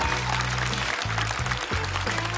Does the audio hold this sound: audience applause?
yes